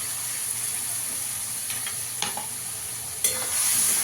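A spice masala of ground paste with melon seeds, tomato and cashew is stir-fried in a pan for a chhanar bora and chana dal dish, giving a steady hiss with a few sharp scrape clicks, rising toward the end.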